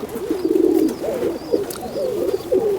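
Rooftop breeding pigeons in Jammu and Kashmir give low rolling coos, several overlapping calls in a steady run close to the listener, without any speech.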